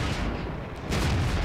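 A tank cannon fires in World of Tanks on the Fjords map: a heavy, booming blast over rumbling battle noise, swelling again near the end, with no voices.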